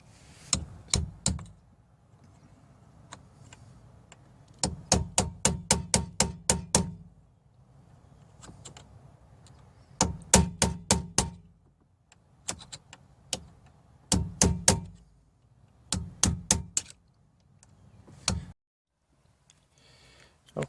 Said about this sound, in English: we're going to back these off with the pointed center punch that comes with the kit